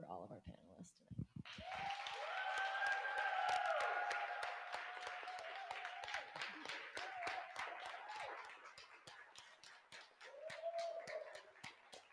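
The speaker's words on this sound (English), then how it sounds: "give a really, really loud round of applause for all of our panelists tonight" A live panel-event audience breaks into sustained applause for the panelists, a steady wash of clapping that swells early and then continues under a voice talking over it.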